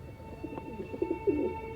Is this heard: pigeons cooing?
yes